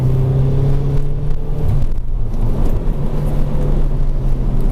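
Engine of a 2002–2008 Opel Vectra C with manual gearbox during a test drive, a steady loud drone with shifting low tones and road rumble throughout, no talk.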